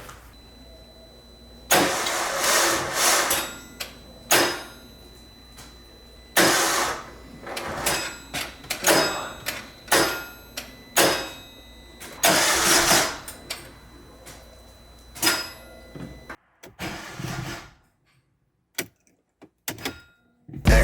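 A car engine, previously seized, cranks over and over in repeated bursts, catching briefly and sputtering between attempts, with pauses of quiet in between.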